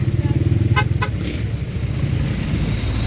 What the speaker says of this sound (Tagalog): Ngayon lang tayo naka-encounter na napaka-traffic.